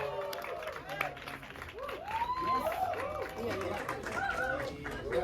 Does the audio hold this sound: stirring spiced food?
no